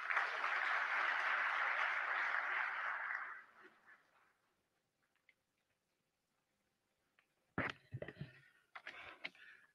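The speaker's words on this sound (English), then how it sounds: "Please give him a big round of applause." Audience applause at an evening diplomatic reception with the Indian ambassador to Thailand fills the first few seconds, then fades into near silence before a lone voice starts speaking.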